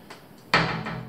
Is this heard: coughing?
no